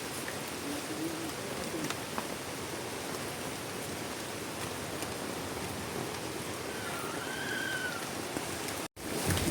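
Steady rain pours onto a surface in an unbroken wash of patter, close and even throughout, with a faint bird call in the background and a brief dropout near the end.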